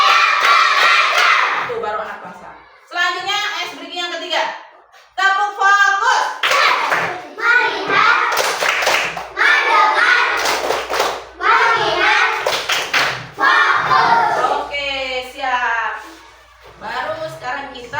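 Children in an elementary school classroom play a rhythmic clapping game, with bursts of hand claps between lively chanting voices of kids and a teacher, fairly close and loud.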